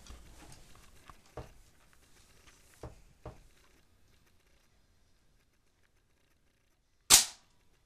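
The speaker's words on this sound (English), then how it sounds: "Alright, now he's gonna be shooting it." A single sharp airsoft M4 rifle shot rings out loud and close near the end, following faint mechanical clicks and handling taps in an otherwise quiet outdoor scene.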